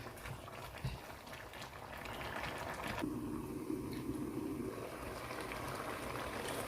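Edikang Ikong soup stock simmering in a pot and cooking down until dry, a steady close bubbling and hissing that thickens midway, with no voices.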